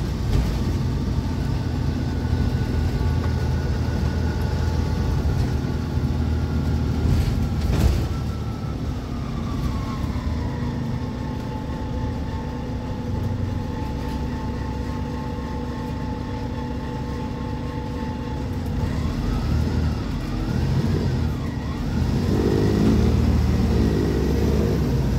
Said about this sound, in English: This bus is incredibly fast.